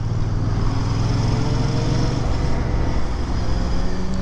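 A Royal Enfield Bear 650 motorcycle rides through city traffic at night, its engine a loud, steady drone mixed with road and wind rush, heard close and unbroken.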